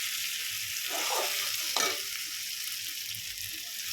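Water poured over fried potatoes in a hot pan for an egg omelette curry raises a sustained bright hiss, with a brief swell of bubbling and a short splash-like burst in the middle.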